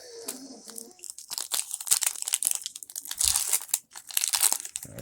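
Crinkly foil tearing and crumpling of a Pokemon trading card pack, likely from a Forbidden Light booster, heard close up in bursts of crunchy rips and rustles with no talking.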